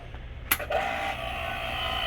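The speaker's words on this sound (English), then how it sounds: "there's a vacuum pump inside the machine that's pulling all of the air out of the system" A vacuum pump inside an AC service machine evacuating the air conditioning system of a 2005 Ford Explorer: a sharp click, then a steady, close motor hum with a faint whine.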